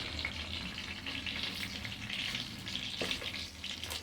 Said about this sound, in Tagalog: nagluluto po tayo ng galunggong. Almusal po natin at pritong tuyo saka fried egg